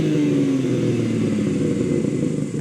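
A deep engine of a BMW M4 Competition Cabriolet rumbles and revs close by, a throaty note from its real exhaust pipes holding steady with a slight rise in pitch.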